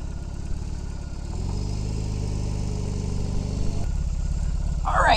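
Motorcycle engine running at a steady low idle-to-moving rumble, close and continuous, with a brief pitch rise partway through and a short noisy burst at the end.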